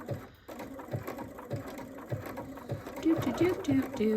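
A sewing machine stitches a patchwork hoodie in reverse with a rapid, rhythmic mechanical chatter of regular needle strokes, close and steady, with a voice speaking over the later part.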